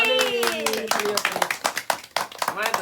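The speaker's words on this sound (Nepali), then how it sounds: "ताली" Family members clap at a momo party at home, a run of quick, uneven hand claps coming close after someone speaks at the start, loud and sharp against a quiet room.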